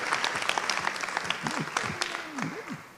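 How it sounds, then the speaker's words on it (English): Applause from an audience at an annual town meeting, dense clapping with a voice talking over it throughout. "I hope that applause was for him,"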